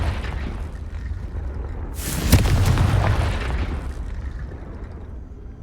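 A fire-blast spell explodes in the Hogwarts Legacy video game: a sudden loud boom with a sharp crack bursts over a low rumbling background, then a roaring tail fades over a couple of seconds.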